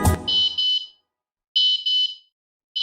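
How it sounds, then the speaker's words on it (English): Airbolt smart travel lock alarm sounding: a loud, shrill electronic beeping in repeated pairs of tones separated by short pauses, following a brief low thump at the start, with no voices. "you can set your airbolt to activate an alarm when it moves too far away from your phone"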